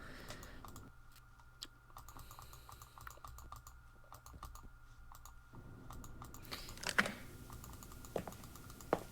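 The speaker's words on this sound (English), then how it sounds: "I'm just furiously clicking to get him to walk." A computer mouse and keys clicked rapidly while playing a haunted PS1 demo disk horror game: steady quick clicking and tapping over a low hum, a few sharper clicks near the end, with no talk.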